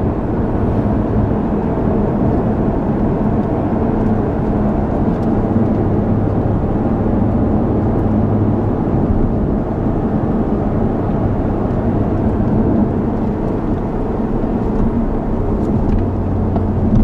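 A steady, loud roar of Jaguar cars lapping Homestead Miami Speedway, with an unbroken engine and road drone that holds throughout and nobody talking over it.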